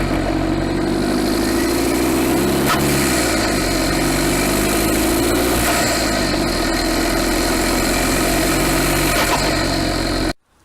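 A diesel car engine fitted with a pod air filter runs steadily, rumbling and droning loudly before cutting off abruptly at the end.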